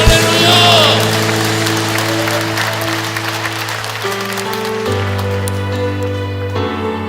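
A church congregation at a Korean prayer meeting claps loudly and steadily, a dense patter of applause spread over sustained keyboard or organ chords that shift midway.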